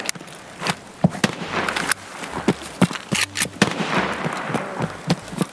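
Rapid gunfire in a custom-match video game, sharp close shots in irregular bursts and single cracks, loud and repeated throughout with no talk.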